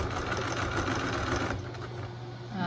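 A sewing machine runs steadily, stitching a set-in sleeve seam into a shirt armhole, with a continuous rapid mechanical whir and needle chatter, close and alone throughout.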